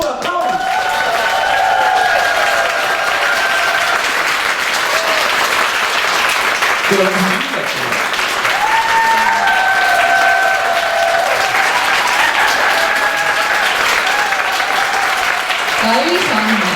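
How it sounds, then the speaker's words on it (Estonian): An audience applauds the choir conductor at a choir school event, with sustained, dense clapping running loud and steady throughout, while scattered voices and cheers rise briefly over it. "suur aplaus!"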